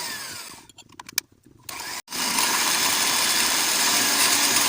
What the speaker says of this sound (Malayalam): എന്നിട്ട് അതൊരു ബീറ്റർ ഉപയോഗിച്ചോ അല്ലെങ്കിൽ ഫോർക്ക് ഉപയോഗിച്ചോ നല്ല രീതിയിൽ മിക്സ് ചെയ്യുക.